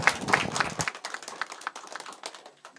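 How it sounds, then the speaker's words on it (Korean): Church congregation at a Sunday worship service claps in birthday celebration, a burst of fairly close hand claps that fades quickly into a thinning patter of scattered claps. "생일 축하의 박수를 하겠습니다"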